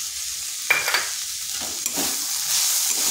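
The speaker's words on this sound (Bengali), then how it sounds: "বড়িগুলো দিয়ে 2 থেকে 3 মিনিট এইভাবে ভেজে নিচ্ছি" Bori lentil dumplings fry in a pan with a steady oily sizzle, while a few brief scrapes and clinks of stirring sound close by and no one speaks.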